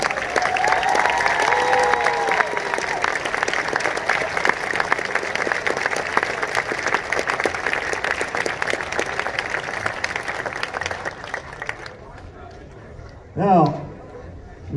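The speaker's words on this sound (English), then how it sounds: "would you join me one more time in a big round of applause for all of the performers this evening?" Audience applause for a high school wind ensemble at a fall concert, a dense sustained wash of clapping with some cheering that fades out near the end, followed by a brief burst of speech.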